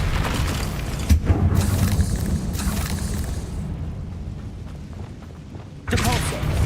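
A Bombarda blasting spell goes off in a wizarding video game, giving a booming, rumbling explosion that fades out, followed by another sharp burst near the end.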